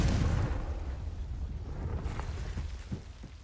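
Incendio and Confringo spell blasts in a Harry Potter-style wizard video game: a heavy, fiery whoosh and boom at the start that fades into a rumbling crackle with a few small pops.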